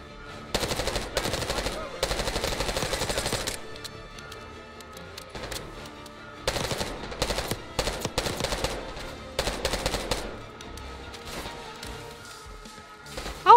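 Rapid automatic gunfire bursts in the video game Call of Duty Black Ops 6, loud sustained volleys of shots separated by quieter gaps, repeating several times with no talk over them.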